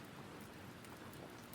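Steady, close rain falls and patters on surfaces without letting up. No voices can be heard.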